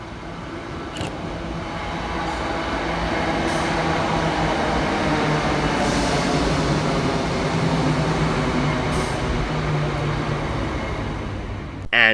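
A Scotrail class 320 electric train rolls into Paisley Gilmour Street station with a steady, loud rumble and rattle of wheels over track, holding a constant drone throughout with brief squeals toward the end.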